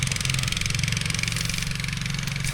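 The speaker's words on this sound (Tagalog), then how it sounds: "hanggang dito yung motor" A motorcycle idles in a corn field at harvest time, a loud, close, steady rhythmic engine putter with a fast even pulse throughout.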